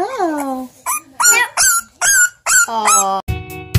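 Puppies whimpering and yapping up close, a string of high, sliding whines and short yips in bursts, loud and near, with a person's voice talking among them.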